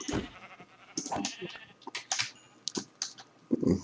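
Sheep in the Minecraft video game bleat in several short, bright calls spread across the moment, alternating with sharp clicks like keyboard typing, with no talking.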